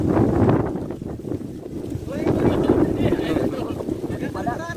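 Outdoor wind buffets the microphone in a steady low rumble that swells and eases across the whole stretch, with muffled voices faintly underneath.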